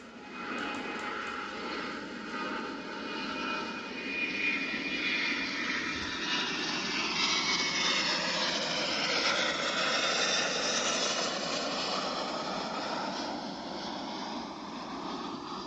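Engine noise from a Grumman A6 Intruder attack plane roars as a continuous, fairly faint drone, its pitch sweeping and shifting as the aircraft passes, with no voices.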